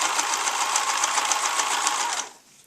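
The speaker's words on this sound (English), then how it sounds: "Start sewing it, and you can always go back." A sewing machine runs in a steady, close whir of rapid stitching through a homemade cloth pad, the rattle continuous for about two seconds before it stops and falls quiet.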